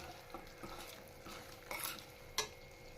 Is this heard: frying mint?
yes